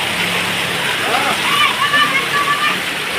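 A heavy monsoon downpour drums over Chhapi village, a loud, steady rushing hiss of rain and running water, with a voice faintly heard over it.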